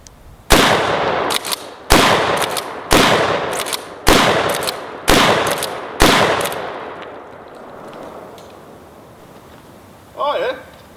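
Five loud 12-gauge slug shots from a straight pull shotgun, spaced about a second apart, each with a sharp crack and a decaying echo, followed by quiet and a brief clatter near the end.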